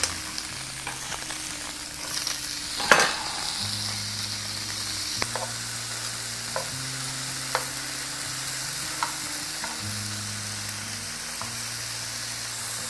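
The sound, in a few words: beef steak strips searing in a stir-fry pan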